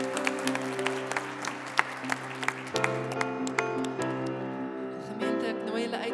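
A church congregation claps along during a service, irregular sharp hand claps over sustained music with steady tones that shift partway through.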